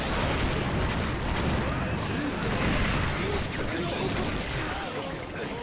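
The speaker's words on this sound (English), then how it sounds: "kind of hard to get us with your explosions when you're stuck back there." Repeated explosions in the Naruto War of Shinobi fighting game, dense booming blasts and bursts filling the scene continuously at close range.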